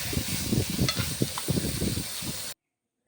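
Chopped capsicum fries in a pan with salt, a close, continuous crackling sizzle with soft stirring rustles that stops abruptly into silence near the end, with no speech.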